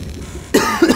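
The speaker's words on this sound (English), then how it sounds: "a bit of a cough there" A single person's cough, close and fairly loud, during a Tomb Raider Chronicles play session with quiet game ambience underneath, followed by a second smaller cough burst.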